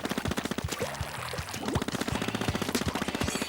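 An ink gun fires in Splatoon 2: a fast, unbroken stream of wet, splattering shots at a steady rapid rhythm, loud and close, with no talking.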